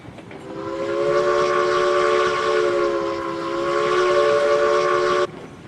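A train locomotive easing down as it nears a rail yard in the video game Railroads Online gives a loud, sustained, horn-like chord that holds steady for about five seconds and then cuts off abruptly.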